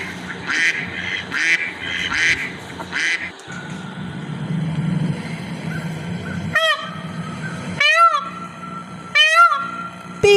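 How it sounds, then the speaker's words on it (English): Duck quacking in a series of loud nasal calls, several bursts early then three sharp separated quacks toward the end, over a steady low background hum. "Duck."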